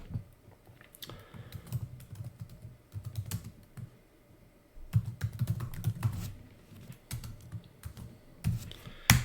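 Keys clack on a computer keyboard as a folder name is typed, in uneven close bursts of tapping with a few heavier thumps in between, and no talking.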